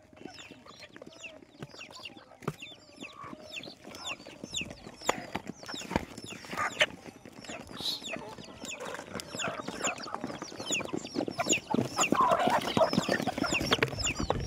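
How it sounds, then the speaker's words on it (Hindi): Hens clucking and calling on a farm as more birds gather, a busy chorus of short clucks and squawks near and far, growing denser and louder toward the end. "और यहाँ पे और बाकी मुर्गियाँ आ रही है वहाँ से।"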